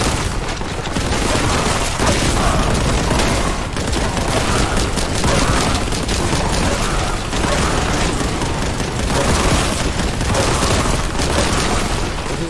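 Dense, loud gunfire and booming grenade blasts in a first-person shooter video game, a continuous barrage with no pauses.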